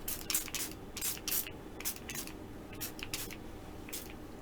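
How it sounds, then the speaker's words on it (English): Fruit enzyme spray being pumped from a bottle, a series of short, crisp hissing spritzes in irregular clusters, close and fairly quiet, with no voices. "Let's spray, everyone."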